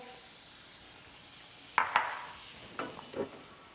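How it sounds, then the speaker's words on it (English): A soft, quiet sizzle of peaches on a grill hisses steadily, broken by a few light clinks and scrapes of a utensil. "You can hear that sizzle."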